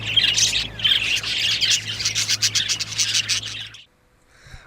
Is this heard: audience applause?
no